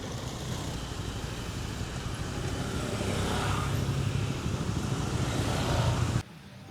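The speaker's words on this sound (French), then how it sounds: "c'est ça le scooter qu'on a loué. Donc c'est un petit scooter 525" A small rented 125 scooter engine runs steadily nearby on a street in Thailand, a continuous low motor drone with road noise that swells slightly before cutting off near the end.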